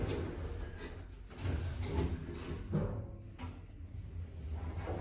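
Automatic doors of a 2018 KONE MonoSpace lift in a school slide shut, a continuous low rumbling glide with faint bumps over several seconds.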